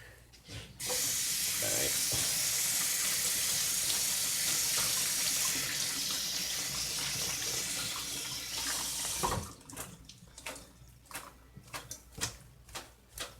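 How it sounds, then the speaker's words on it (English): Tap water gushes into a sink while cerasee herb is rinsed under it, a loud steady splashing for several seconds that cuts off abruptly, followed by close clicks and handling sounds. "Okay, so I turn on the water. Let me give it a quick wash."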